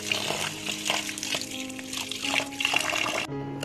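Soaked grains are washed by hand in water, giving soft sloshing and trickling sounds close by, with faint clinks and a sudden quieter ending.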